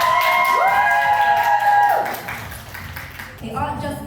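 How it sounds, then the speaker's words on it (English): A funeral crowd applauds as a eulogist is called up. Clapping and cheering sound close and loud at first, then fade briefly before swelling again, with voices and tonal calls mixed in. "Round of applause for Helen"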